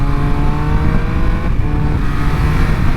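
Triumph Speed Triple 1200RS motorcycle from 2023 leaning through a bend, its engine holding a steady, loud droning note with layered harmonics, close to the microphone and mixed with rushing wind, continuous for the whole stretch.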